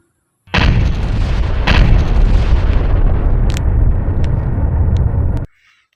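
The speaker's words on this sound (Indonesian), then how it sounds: "granat. Kita lempar ya." A toy grenade's electronic explosion effect blasts out loud and close, a sustained rumbling boom with crackling bursts lasting about five seconds before cutting off abruptly.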